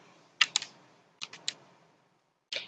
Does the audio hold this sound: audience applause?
no